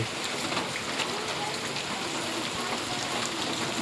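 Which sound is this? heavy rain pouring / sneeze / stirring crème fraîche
heavy rain pouring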